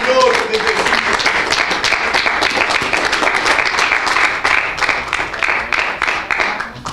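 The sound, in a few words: church congregation applauding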